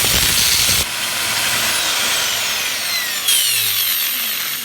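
An electric drill with sparking motor brushes whines at high speed, loud and close, and is switched on and off in short bursts with a steady running tone between.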